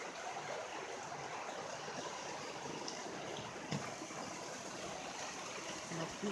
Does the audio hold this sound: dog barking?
no